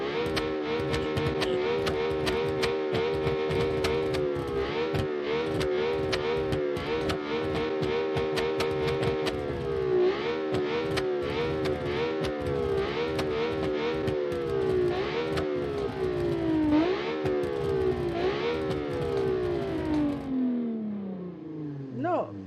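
A high-revving V6 in the racing game Automation screams up toward 9,000 RPM, climbing repeatedly through gear shifts before a final falling note, with a voice talking over it.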